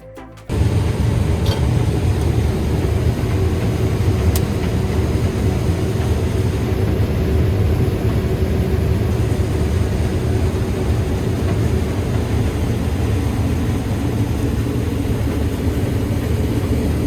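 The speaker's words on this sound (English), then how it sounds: "So I am in the combine now for the day." A combine harvester drives across a field to start on head-end rows, its engine a steady, loud, close drone that holds evenly throughout with no talking.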